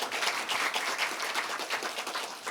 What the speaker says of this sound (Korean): 염재호 총장님께 여러분 큰 박수 보내주시기 바랍니다.